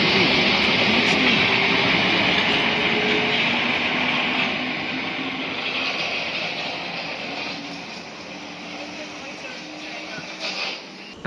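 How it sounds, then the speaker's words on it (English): South Western Railway Class 450 electric multiple unit pulling into Putney station, a steady loud rumble and rolling hum that eases off as the train slows, with brief clanks near the end. "And here comes our train in the form of"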